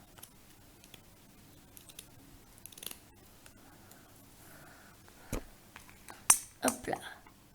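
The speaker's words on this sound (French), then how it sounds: "vous allez prendre votre ciseau et vous allez couper un rond pareil." Scissors snipping around a circle of craft material while making homemade accessories for toy horses, quiet scattered clicks that grow into several louder, close snips near the end.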